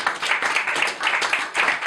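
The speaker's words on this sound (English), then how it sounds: "Give her a round of applause." A debate audience claps in brief applause, a quick burst of uneven hand claps that rises and falls over a couple of seconds at moderate volume.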